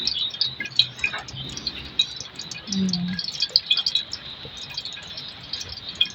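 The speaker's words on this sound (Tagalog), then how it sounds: "Ayan mga kamusang, umuulan na naman." Rain falls and drips outdoors, with scattered patters and droplets over a quiet background, birds chirping faintly throughout and a brief low murmur partway through.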